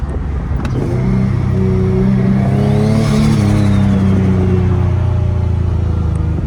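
A turbocharged Infiniti G37 engine, running on wastegate pressure only, revs hard, its pitch climbing then falling back, loud and close, with no talking.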